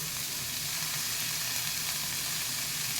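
Tomato and ridge gourd fry in a pan, a constant close sizzling hiss that stays even and alone throughout.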